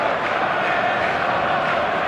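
Stadium crowd in the eFootball video game makes a steady, dense roar of chanting and cheering, loud and continuous with no breaks.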